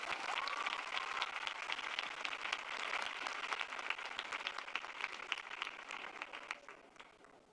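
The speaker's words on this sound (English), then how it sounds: "Round of applause." An audience at an interreligious youth event applauds with dense, sustained clapping that holds steady for several seconds before tapering slightly at the end.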